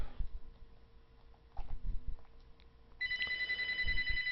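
A telephone rings in a quiet room, its bright, steady electronic tone starting partway through and continuing clearly above soft background noise.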